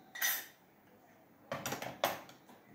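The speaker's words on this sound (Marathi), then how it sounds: "आणि आपण हे सगळं हलवून घेणार आहे" A spoon clinks and scrapes against a dish as millet poha is stirred with lemon juice and sugar. There are three short bursts, separated by a quiet pause, with no talking.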